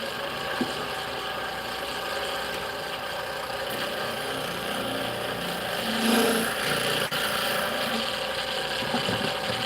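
A wood lathe spins a workpiece with a continuous motor hum and faint whirring overtones, steady and close with a brief swell near the end.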